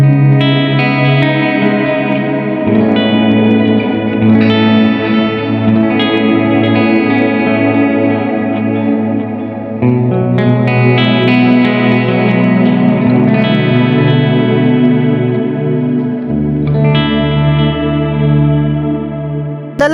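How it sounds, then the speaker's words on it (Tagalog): An electric guitar plays sustained chords through an M-vave MK-300 reverb stacked with a Black Box cloud reverb pedal. The chords wash into long, shimmering, echoing tails, loud and continuous for twenty seconds, with no talking. "pag pinagsama na natin yung reverb ni MK300 at reverb de black box,"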